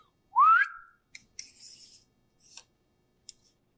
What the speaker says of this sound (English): Can you make a loud whistle noise for me?